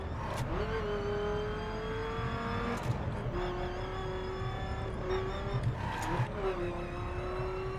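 A sustained, revving car engine in The Crew racing game, its pitch gliding up and down through gear changes, steady and loud throughout, with someone talking over it.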